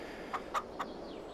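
Chickens in a farming simulator game give three quick, soft clucks in a row over a steady low background hum.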